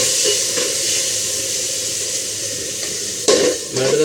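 Food frying and sizzling in a cooking pot with feta cheese and green masala, steady hiss with occasional stirring scrapes and a louder burst near the end, close and without talk.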